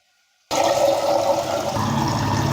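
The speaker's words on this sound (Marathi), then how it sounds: "तर आता आपण हे ना माठ भरून ठेवू" After a brief silence, drinking water suddenly gushes in a loud, steady stream, filling a clay pot close by.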